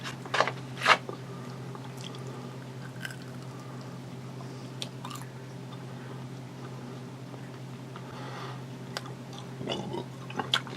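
Someone chews a semi-soft candy studded with peanut and sesame, giving a few sharp crunchy bites at the start and end with quieter sticky mastication in between, close to the mic over a low steady hum.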